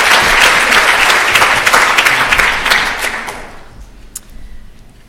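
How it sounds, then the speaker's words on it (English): A lecture audience claps for Professor Marion McMurdo at a medical grand rounds talk. The applause is loud and crowded, then thins out and fades to a few scattered claps and near quiet over the last couple of seconds. "A round of applause, absolutely."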